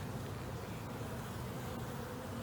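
Bees hum around an open honey hive about 15 months old, a steady, close, continuous buzz of many insects with no pauses.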